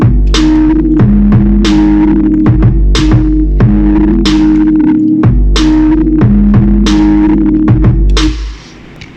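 A trap beat made in FL Studio, with deep sustained 808 bass notes under punchy top kicks and snappy hits in a steady repeating pattern, loud and close, ending as the bass fades.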